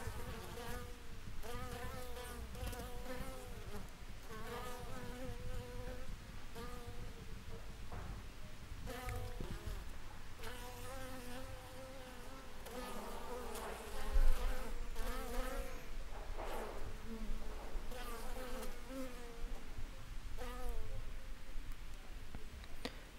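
Honeybees buzz densely around a beehive, a continuous layered droning hum of many wings close by, with a faint voice occasionally beneath it.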